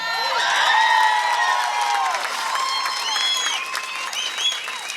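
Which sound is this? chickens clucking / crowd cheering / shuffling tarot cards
crowd cheering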